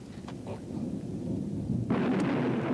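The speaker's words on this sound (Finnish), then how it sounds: "Sehän onkin ukkonen, joka rymistelee siellä." Low rolling thunder rumbles steadily through the whole stretch, swelling louder near the end, with a faint voice briefly audible early on.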